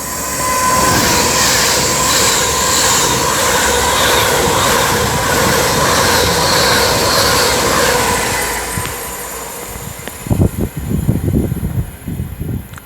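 A train on the West Coast Main Line roars past close by at Marston Green with sustained, heavy wheel noise and squealing. It fades after about nine seconds, leaving scattered low knocks. No clear two-tone horn stands out.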